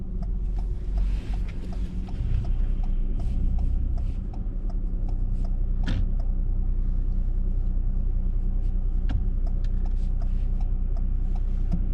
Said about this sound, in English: when you're ready, continue driving